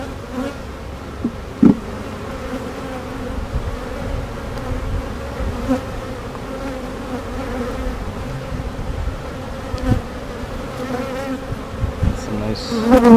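Honey bees buzz steadily at an open beehive during a frame inspection. The drone of many bees is close and continuous, with a few louder passes of single bees flying near.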